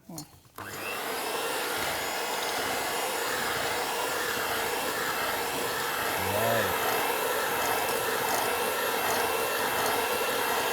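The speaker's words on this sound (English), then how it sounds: "typically, if you don't have this electronic whisk, you use a regular one" Electric hand whisk beating two cups of sugar with two eggs in a mixing bowl: after a brief start, a loud, steady motor whir runs without a break, with faint voices underneath.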